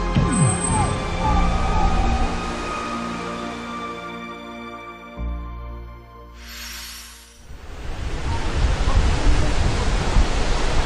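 Broadband rushing roar of Guryong Falls, the largest waterfall on Mount Kumgang, loud and steady, dipping briefly midway before surging back to full strength.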